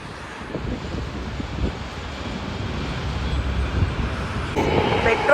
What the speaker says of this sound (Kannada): ಮೆಟ್ರೋ ನೋಡಿ ಎಷ್ಟು ಪಕ್ಕದಲ್ಲಿ ಹೋಗುತ್ತೆ